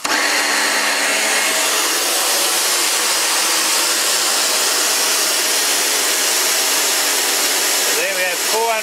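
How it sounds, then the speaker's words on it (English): A pressure cleaner runs loud and steady, a dense continuous roar and hiss that holds from start to finish, with a brief change in pitch near the end. "So now we're going to turn our pressure cleaner on."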